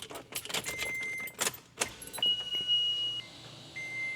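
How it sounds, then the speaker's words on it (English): Car keys jangle in several brisk bursts inside a Toyota FJ Cruiser, close and fairly loud, followed by a few electronic beeps and a steady chime tone. "let me get my keys. I'll get my keys"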